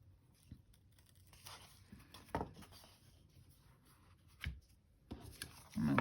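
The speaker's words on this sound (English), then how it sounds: "I go through with the X-Acto knife and I open it up." An X-Acto knife is drawn through old paper in a Little Golden Book, making faint, close, irregular scratchy and rustling strokes with a few louder scrapes and no speech.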